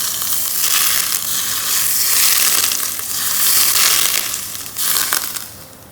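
Hot soybean oil hitting chicken momo filling seasoned with soy sauce and salt, a loud crackling hiss that surges in waves and then fades slightly toward the end; no voices.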